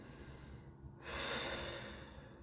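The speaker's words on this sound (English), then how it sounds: "And then we're breathing." A single deep exhale during a Budokon yoga recovery pattern, a soft, close breath that swells after a quiet moment and slowly fades.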